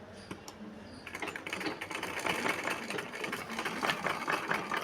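A sewing machine stitching a blouse sleeve runs in a fast, steady mechanical whir and clatter after a quiet start, close and continuous with no talk.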